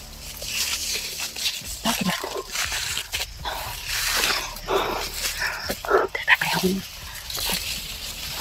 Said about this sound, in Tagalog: May bantay na aso to.